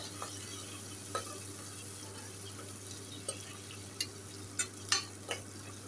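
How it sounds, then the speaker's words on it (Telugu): Chopped onions fry in a pan, a steady low sizzle with occasional sharp scraping clicks of a spoon stirring against the metal, close and fairly quiet. "కట్ చేసి పెట్టుకున్న ఆనియన్స్ వేసుకోవాలి. వేసి ఇలా బాగా కలపాలి ఫ్రెండ్స్."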